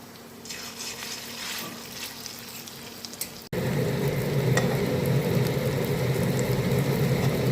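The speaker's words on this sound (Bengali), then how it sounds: "ভাজবো বড়া, পোস্তর বড়া।" Poppy seed fritters (posto bora) fry in hot oil, a quiet crackle that jumps into a loud, dense, continuous sizzle midway through, close and steady with no talking.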